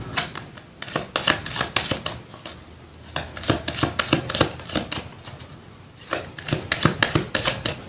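Repeated riffling bursts of cards being shuffled, crisp and close, in several rapid rounds separated by short pauses.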